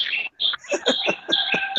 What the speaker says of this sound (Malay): Bunyi burung tu Ustaz tu